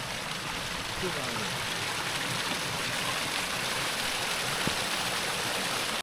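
Blackden Brook in the Peak District rushing steadily over rocks, a continuous broadband wash of flowing water heard close and moderately loud without pause.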